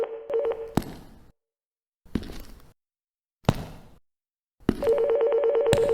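An old-style telephone bell rings in bursts with silent gaps, a trilling metallic jangle cut by sharp clicks, loud and close, used as an audio drama effect with no voices.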